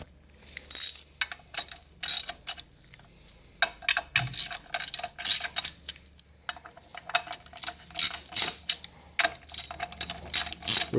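A hand ratchet clicks in quick rhythmic bursts, close and crisp, while clutch bolts are tightened evenly on a Kia Soul 1.6L with a six-speed manual transmission, with brief pauses between strokes and faint metallic clinks.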